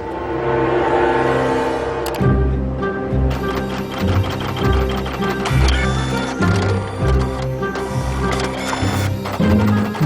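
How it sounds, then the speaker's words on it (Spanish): A faulty inkjet printer with a failed part runs, whirring and grinding mechanically with a rhythmic series of clunks and ratcheting gear clicks that repeat roughly every second, loud and close with no talking. "Una pieza de la impresora ha fallado y el fabricante recomienda llevarla al servicio técnico."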